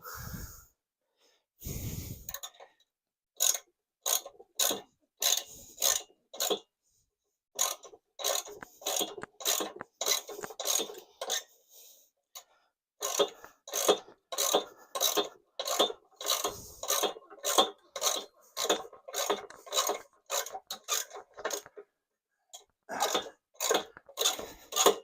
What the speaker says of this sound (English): Just clean the corrosion off the threads.